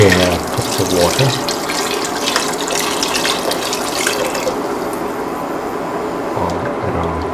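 Water pours into a pot of cracked wheat for an egg cracked-wheat meal, making a continuous splashing, gurgling rush that fills the clip at close range and softens slightly toward the end.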